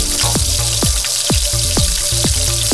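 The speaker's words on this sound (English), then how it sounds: "All I need to do now is just simmer our okra for another couple of minutes" Okra simmering with sour tamarind extract in a pan, a steady loud bubbling sizzle with regular wet pops and plops recurring roughly every half second, alone without voices.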